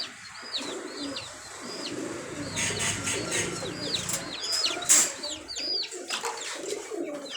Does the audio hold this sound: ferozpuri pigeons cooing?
yes